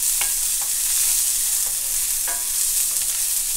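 Picadillo ingredients frying in hot vegetable oil on a stovetop burner, with a steady, loud close sizzle and a few light stirring scrapes across the pan.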